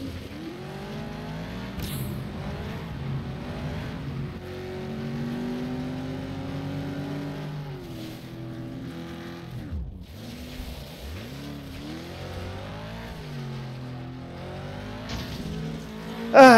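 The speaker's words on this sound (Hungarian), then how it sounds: "Elfelejtettem, hogy nem tud fékezni az autó." Racing game FlatOut, with a car engine revving and shifting pitch through accelerations and a sweeping dip, tires squealing, and a sharp crash-like burst at the very end, with no talk.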